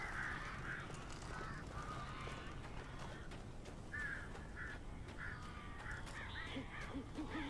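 Several birds, crow-like, caw and call at intervals in Alan Wake, a few harsh cries rising over a constant hiss of background noise.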